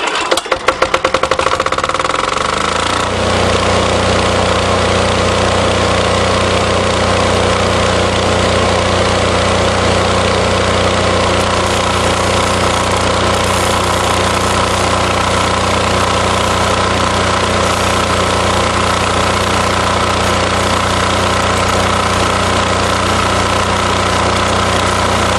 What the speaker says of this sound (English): Time to weld. Start the generator.